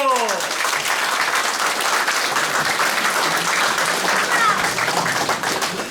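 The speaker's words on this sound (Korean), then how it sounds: "박수 주세요" Audience applause greets a former regional campaign committee chair arriving at a Korean political gathering, a dense, steady clapping that fills the room at close range, with a few voices mixed in beneath it.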